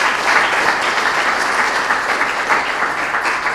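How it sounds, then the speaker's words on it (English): An audience claps in warm, dense, continuous applause at an entrepreneurship event, loud and steady throughout with no other sound on top. "Round of applause for Leif."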